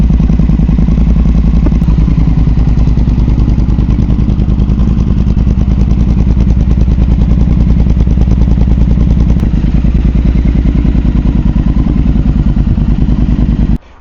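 A Triumph T120 motorcycle with a new Tec-Bike Dueller exhaust idles and revs loudly and steadily, close up, with a rough rhythmic burble that cuts off at the end.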